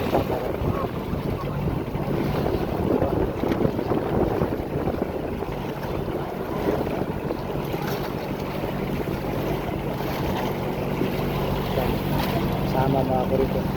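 A strong wind buffets the microphone on a small boat at sea, with a constant roaring gust noise and water sounds throughout, and a person talking over it.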